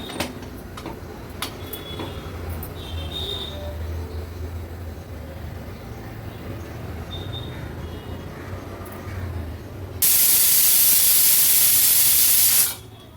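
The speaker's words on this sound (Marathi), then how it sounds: "आता कुकरचं झाकण लावून कुकरच्या 2 शिट्ट्या काढून घेणार आहे।" A pressure cooker holding an Agri-Koli style drumstick-pod vegetable dish gives one loud, sharp whistle of escaping steam near the end, lasting a few seconds after a quieter stretch of faint kitchen hiss and ticks.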